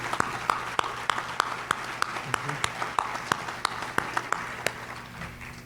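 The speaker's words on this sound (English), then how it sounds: "join me in a round of applause for all of the Yay participants" Clapping rises at a Chamber of Commerce monthly luncheon for program participants, a few distinct, evenly spaced claps standing out sharply above a soft, thin patter of applause and room murmur.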